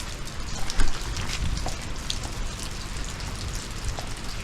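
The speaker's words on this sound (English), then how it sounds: "It's pouring down rain." Heavy rain pours steadily, a dense continuous hiss of drops pattering on surfaces, loud and close with no voices.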